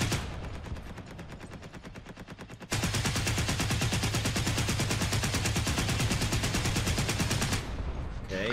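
Rapid bursts of tank gunfire in War Thunder from a Leopard 2A4, a dense machine-gun-like rattle that thickens sharply partway through and rolls on loud and continuous before easing near the end, with no talk.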